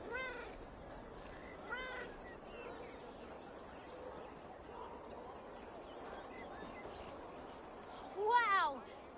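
An old sea cat in Assassin's Creed Valhalla meows a few times, faint under background game ambience, with one louder meow near the end; voices talk nearby.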